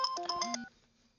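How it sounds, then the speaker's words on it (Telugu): Short mobile phone ringtone at night: a quick run of electronic beeping tones that cuts off after about half a second, leaving near silence. "ఈ టైంలో ఫోన్ ఎవడు బావా?"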